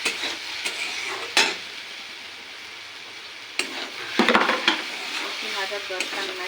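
Kalmi greens and prawns frying in a pan give a steady close sizzle, with scrapes and clinks of a stirring utensil against the pan at intervals. No talk is heard.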